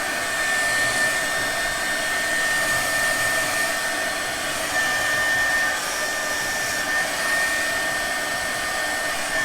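A heat gun blows a constant, loud, close whooshing roar while shrinking heat-shrink tubing onto server cables, steady for the whole stretch with no talking.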